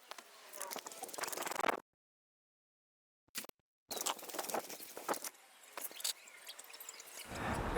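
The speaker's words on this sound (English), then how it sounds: "allow the oil to drip into that pan and let it run out until it stops running" Engine oil runs from an MGB sump into a drain pan, giving a faint, uneven patter and trickle that cuts in and out with stretches of silence.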